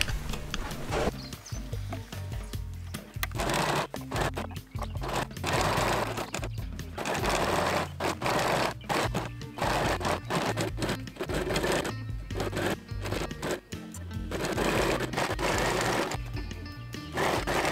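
A sewing machine stitches a wrap skirt in loud, continuous bursts of rapid clatter with short pauses between runs, close up, with no talk.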